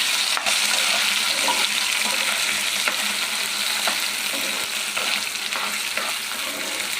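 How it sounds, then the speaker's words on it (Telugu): Taro root (arbi) fries on a high flame with two dried red chillies in the pan, giving a dense, continuous hiss and crackle of oil with occasional stirring scrapes, close and fairly loud, with no talking. "ఇది హై ఫ్లేమ్లో పెట్టుకొని ఫ్రై చేసుకోవాలండి."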